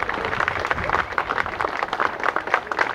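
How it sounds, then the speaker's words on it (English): Applause from an event audience at an arts center gathering, a moderate burst of scattered clapping with individual claps standing out, fairly even in level throughout the short stretch. "just give them all a round of applause"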